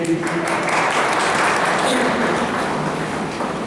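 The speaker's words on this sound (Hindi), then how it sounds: "जोरदार ताली इनके लिए." Loud, sustained applause from an audience at a motivational lecture on gratitude, a dense, even wash of clapping, with a voice briefly audible at the start.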